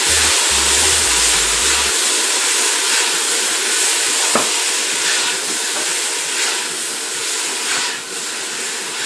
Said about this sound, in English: Go ahead and stir our vegetables again.